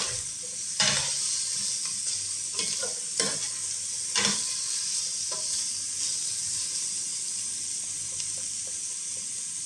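Vegetables for chicken sotanghon fry and sizzle in a pan alongside already-cooked chicken, a steady close hiss broken by repeated sharp clanks and scrapes of stirring.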